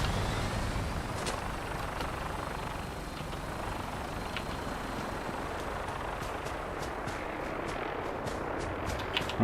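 A vertibird aircraft settles in to land in Fallout 4, its broad, steady rotor and engine roar filling the scene with a constant dense rumble and faint mechanical clicks near the end.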